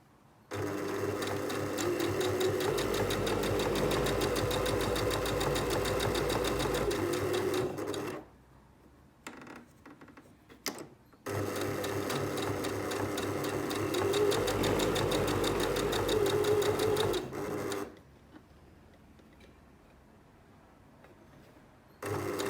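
A sewing machine stitches a lapped zip seam at a regular 2.5 mm stitch length with reverse stitching at the end. Two long, steady runs of rapid motor whirr and needle clatter are split by a short quiet pause, with no talking.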